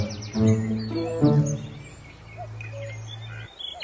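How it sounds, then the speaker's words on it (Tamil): A peacock calls near a maize field, giving two loud, harsh, rising cries close by, followed by a quieter stretch with faint chirps and a sustained low hum. "ஏய், சீதர் மயில்."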